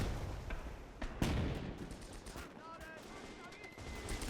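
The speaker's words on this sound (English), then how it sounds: "50mm pack firing away." Gunfire from a 50mm Pak anti-tank gun in the Gates of Hell war game, one loud sharp blast followed by scattered distant shots and battle rumble, with a voice speaking over it.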